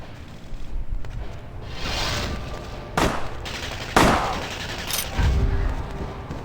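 Gunfire in Vampire: The Masquerade – Bloodlines: several sharp, loud shots ring out a second or so apart over a murmuring background of in-game ambience.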